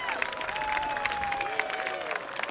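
An audience at a Telangana Formation Day celebration claps for performing children, a dense, even burst of applause mixed with crowd noise, with a sustained tone running through it.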